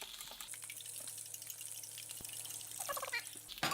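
Bacon sizzles in a frying pan, a faint, steady crackling hiss over a low hum, with a few soft clinks and no talking.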